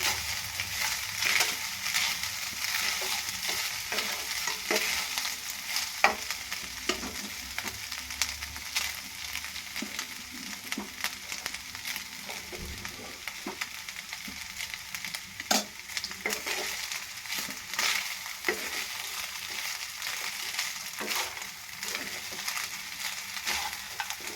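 Mango and rice are stirred in a cooking pan, a steady sizzle carrying repeated scraping strokes of the spoon against the metal, close and continuous with no talk.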